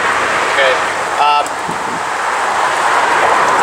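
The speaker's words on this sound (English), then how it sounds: "Sorry for the noise, I live next to the highway." Steady broadband roar of highway traffic beside an outdoor grill where hot sauce chilies are being fire roasted, constant and fairly loud, with a short whistle-like tone and a brief spoken word over it.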